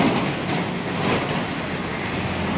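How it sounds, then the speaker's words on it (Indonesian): A Trans Jatim bus rolls past a roadside stop beneath a toll road, a loud broad roar of engine and tyres that stays steady and near across the moment, with no talking. "ada bus Trans Jatim nih teman-teman"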